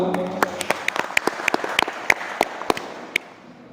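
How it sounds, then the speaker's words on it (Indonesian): A small seminar audience on entrepreneurship claps for a few seconds, sharp individual claps scattered and fading out toward the end. "Tepuk tangan untuk teman-teman semua."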